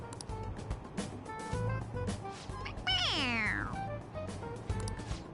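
A stuffed toy cat in Persona 5 Royal lets out a single loud, drawn-out meow that falls in pitch, set against quiet game background sounds with a few light clicks.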